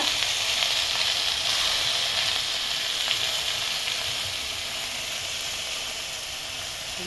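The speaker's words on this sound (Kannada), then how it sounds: "ಕಹಿ ಹೋಗ್ಲಿಕ್ಕೆ ಹುರಿಯೋದು" Agathi leaves dry-roasting in a hot pan give a loud, dense, continuous sizzling hiss that holds steady throughout and eases slightly toward the end.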